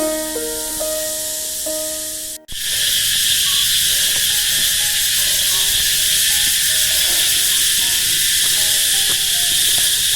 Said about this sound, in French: Toujours accompagné des bruits des grillons.